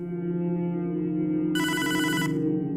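Telephone ringing in Hotline Miami 2, a bright electronic trill that bursts in over a steady humming game soundtrack for under a second before cutting off.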